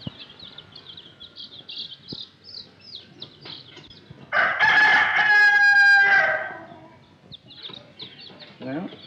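Chickens cluck and chirp softly in a barnyard scene from a 1936 comedy film, then a rooster crows loudly and close for about two seconds before the clucking resumes.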